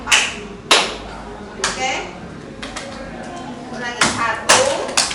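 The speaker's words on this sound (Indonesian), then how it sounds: "Tepuk 1, tepuk 2, tepuk 3, tepuk 4. Tepuknya 2 kali." Group hand clapping in an ice-breaking game during a school guidance session, a few sharp separate claps spaced apart with a voice talking between them.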